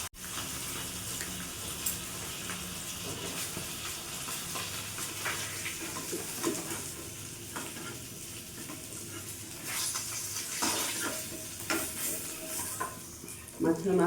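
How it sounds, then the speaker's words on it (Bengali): A rohu fish head fries in oil, a continuous sizzle with occasional stirring scrapes and clinks, moderately quiet and close, with brief bursts of spattering near the end. "ভালো করে লাল করে মাছের মাথাটা ভেজে নেব।"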